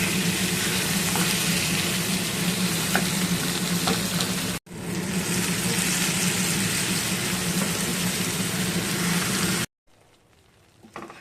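Vegetables for a taro curry sizzle and crackle together in a little oil, a steady loud hiss with faint stirring, cut briefly once, then dropping to a quiet low sizzle at the end.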